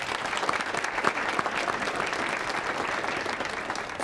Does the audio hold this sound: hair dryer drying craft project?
no